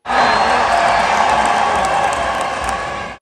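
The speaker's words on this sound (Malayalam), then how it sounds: "ആരവം കൊണ്ട ഗ്യാലറി ഇളകി മറിഞ്ഞു" Stadium crowd at Payyanad Stadium, Manjeri, roaring and cheering as a Malappuram FC football match kicks off, a dense, loud, sustained wall of voices and whoops throughout.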